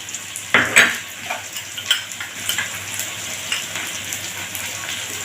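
Onion pieces fry in a pan for dry chilli chicken, a steady close sizzle broken by sharp scraping stirs of a spoon against the metal, loudest near the start and then settling into an even bubbling hiss.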